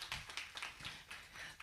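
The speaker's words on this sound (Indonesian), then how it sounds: "Boleh sekali lagi tepuk tangan yang paling meriah Bapak Ibu." An audience at an Indonesian talk show on the 2024 outlook for South Sumatra claps in rhythmic bursts, a steady series of sharp pats from a nearby crowd with no voices on top.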